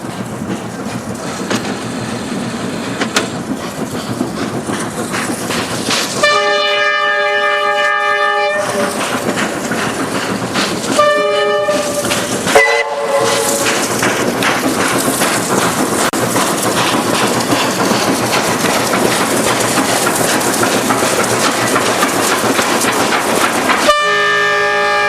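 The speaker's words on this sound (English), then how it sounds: "another train departs for Lingai" A passenger train departs a station in China at rush hour, its horn sounding in several loud bursts over continuous rumbling wagons and clickety-clack wheels.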